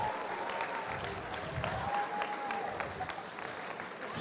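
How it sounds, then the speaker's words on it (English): Applause from the audience at an eighth grade celebration, quiet and distant-sounding, a steady wash of clapping with some crowd noise and a faint tonal hum beneath. "Mr. Fearbend, big round of applause for that guy."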